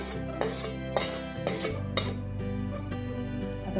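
Wheat flour roasting in a pan for Diwali wheat-flour ladoos, a utensil clinking and scraping against the metal at a steady stirring rhythm, close and moderately loud over a continuous tonal background.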